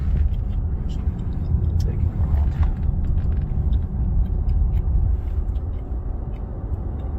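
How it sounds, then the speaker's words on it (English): A car passes on a road with a continuous low rumble of tyres and engine, while scattered clicks and light knocks sound close by under the drone. "Got a car coming"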